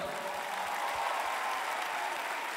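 Crowd in a concert arena applauding a band musician being introduced, thick sustained clapping and light cheers, loud and even from start to end.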